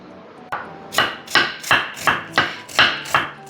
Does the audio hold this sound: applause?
no